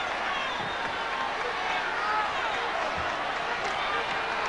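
A crowd of 35,000 at a 1995 NBA playoff game between the Lakers and Spurs murmurs in a steady, dense wash of noise, with a commentator talking over it.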